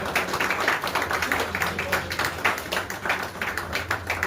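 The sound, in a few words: loud applause, clapping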